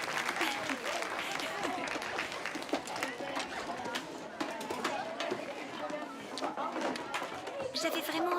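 A crowd of young people applauds continuously after a great score, dense clapping with some chatter mixed in.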